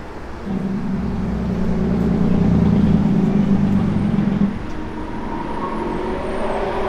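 A 1967 Plymouth GTX with an H-pipe Flowmaster dual exhaust idling nearby, a steady low burbling rumble that swells slightly midway and then settles back to a smooth idle.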